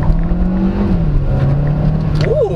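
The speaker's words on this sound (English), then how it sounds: "And here, let's floor it." A 2024 Kia Seltos SX accelerates hard at full throttle, its loud engine droning steadily upward in pitch from inside the cabin throughout.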